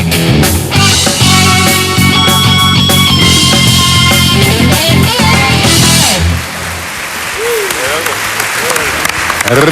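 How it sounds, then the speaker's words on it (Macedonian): Dense studio audience applause fills the room loudly and steadily, then thins slightly toward the end while continuing. "Редовен аплауз во нашата емисија, драги мои."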